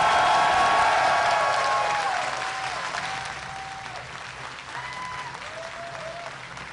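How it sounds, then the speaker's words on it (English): A large audience at the Red Bull Seattle StarCraft esports finals applauds loudly, then the clapping slowly fades, while an announcer's amplified voice carries over the crowd. "I'd like everyone to give an extra special round of applause"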